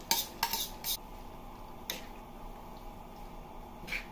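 Bean sprouts are dropped into a pan and stirred, producing sharp metallic clinks and scrapes of a utensil against the pan, with a couple of clustered hits at the start and isolated knocks later over a quiet background.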